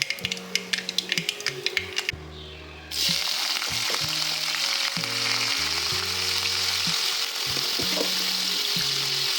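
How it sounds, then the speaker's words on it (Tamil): Potato stir-fry sautéing in oil with mustard seeds, starting with scattered scrapes and clatters before a loud, steady sizzle takes over and runs on beneath repeated stirring knocks. "எண்ணெய் ஊற்றி கடுகு தாளிச்சிட்டு கொஞ்சமாக உப்பு, மஞ்சப்பொடி, நம்ம குழம்பு மிளகாய் தூள் மட்டும் சேர்த்து நல்லா வதக்கி இறக்கிக்கணும்"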